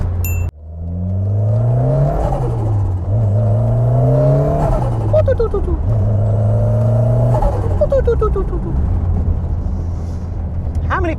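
A stage 3 rear-wheel-drive Ford Sierra RS Cosworth engine revs hard and accelerates through several gear changes, loud and close, with pitch climbing repeatedly and turbo whooshes between shifts, a voice cheering briefly over it.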